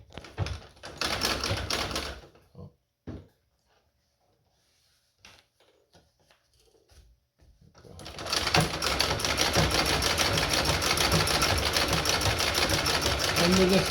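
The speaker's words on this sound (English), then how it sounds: "And with this treadle, you can go as slow or as fast as you want to go." A Singer model 12 treadle sewing machine in Delft-style finish runs in two bursts, a brief rapid clatter at the start, then quiet fumbling, then a steady loud mechanical whir and rattle for the last several seconds.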